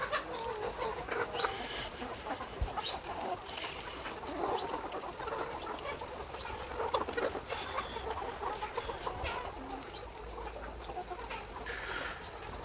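Caged laying hens cluck on a poultry farm, a dense, steady chorus of many birds heard at moderate distance with a constant hum of farm machinery underneath.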